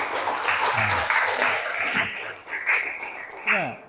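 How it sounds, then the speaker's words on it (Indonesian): A classroom audience at a teaching-practice session claps in a short round of applause, with voices audible over and after the clapping. "Baik, kita berikan aplaus."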